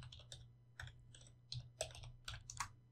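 Quick keystrokes tap on a computer keyboard while a title is typed, a burst of irregular clicks close up over a faint low hum, quiet overall.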